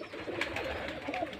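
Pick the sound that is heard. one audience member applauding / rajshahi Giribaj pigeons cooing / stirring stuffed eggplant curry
rajshahi Giribaj pigeons cooing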